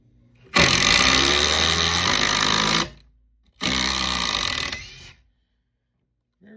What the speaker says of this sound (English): Up first, Metabo. We're just going to drive some 4-inch timber locks